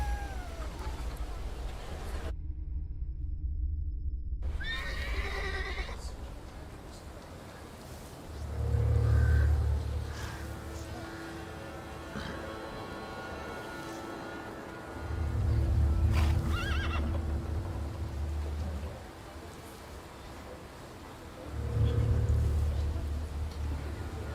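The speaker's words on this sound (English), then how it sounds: "I meant to take the horse out for a ride" Several horse neighs and whinnies in the video game The Thaumaturge ring out over a steady low rumble, with faint hoofbeats and a brief silent gap early on.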